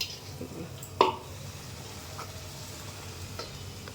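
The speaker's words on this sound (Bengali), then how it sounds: "এখানে এখন লুচি ভাজা হচ্ছে" Luchi deep-frying in hot oil during Janmashtami cooking, giving a soft continuous bubbling sizzle. One sharp clack of a utensil stands out near the start, with a few fainter taps after it. No talk is heard.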